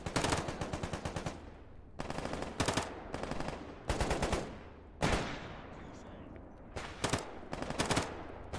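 Automatic gunfire in a GAMMA Ironman video game, long rapid bursts of machine-gun fire with short gaps between them, loud and close, some shots trailing into echoes.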